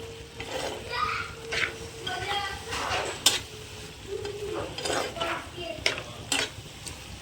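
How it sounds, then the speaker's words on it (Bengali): Ridge gourd frying in a pan, stirred with repeated scraping and clinking strokes over a soft sizzle, with background voices and children audible nearby. "যতক্ষণ না ভাজা ভাজা হতে থাকছে ততক্ষণ নেড়ে নেব।"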